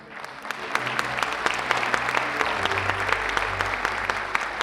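Brisk applause from an audience at a library week award ceremony, dense clapping that holds steady throughout, with a low murmur underneath.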